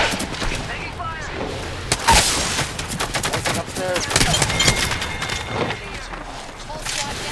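Rapid bursts of gunfire crackle through a video game shootout, with overlapping automatic fire and sharp shots rising and falling over several seconds, with players talking over the gunfire.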